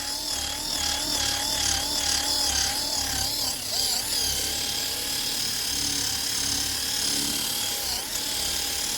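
A power buffer polishes a sanded headlight lens on a 12-year-old Chevrolet Equinox, giving a loud, steady whine that wavers in pitch and runs continuously throughout with no talking.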